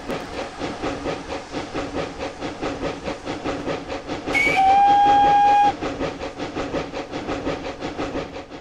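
A GWR steam railmotor, a small 0-4-0 steam locomotive combined with a passenger coach, running in Train Simulator. It chuffs in a steady, rapid rhythm, and a shrill steam whistle sounds for about a second midway.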